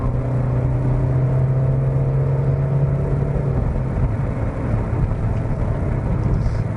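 A Volkswagen T-Roc's roughly 2-litre diesel engine drones steadily from inside the cabin, mixed with road and wind rumble as it accelerates along a highway at speed.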